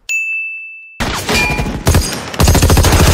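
Gunfire from a Season 3 episode of The Walking Dead: a single sustained ringing tone gives way to loud, dense bursts of rapid shots that continue in close succession to the end.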